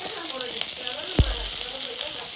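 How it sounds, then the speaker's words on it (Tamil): Onions sautéing in oil for mutta parotta give a steady, soft frying hiss throughout, with one brief thump of a utensil partway through. "நாங்கள் வெங்காயம் வதக்குறோம்"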